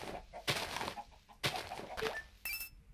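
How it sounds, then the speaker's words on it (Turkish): Minecraft chickens cluck in short, close bursts, three clear clucking calls spaced about a second apart with a few soft in-game clicks and tones between them. "Vallahi tavuk buldum."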